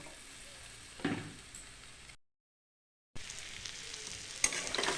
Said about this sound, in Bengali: এই যে মশলা ফুটিয়েও গেছে এরকম করে কষিয়ে নিলাম